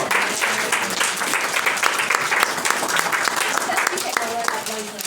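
A class audience at a diplomatura session claps together, a close, continuous round of applause with some voices underneath, tapering off slightly at the end.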